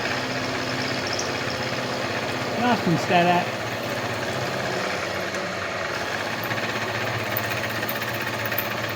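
A milling machine drives a roughing end mill through oiled metal while fabricating custom Harley forward controls, making a steady grinding drone throughout with a brief spoken remark over it.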